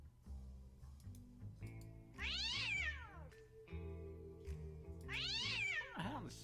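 A cat meows in the video game Leprechaun Shadow, two long rising-and-falling meows separated by a pause and set over a low game music bed, fairly clear and unaccompanied by speech.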